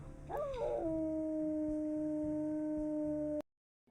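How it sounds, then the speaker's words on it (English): A wolf in WolfQuest: Anniversary Edition gives one long, close, loud howl beside a waterfall. It opens with a rising yelp, then holds a steady tone for about three seconds over a low background rumble before cutting off abruptly. "we can go ahead and howl"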